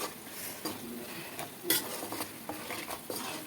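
A spoon stirs egg pickle with turmeric in a pan, soft scraping and clinks against the metal over a faint sizzle, in irregular strokes close by with no talk.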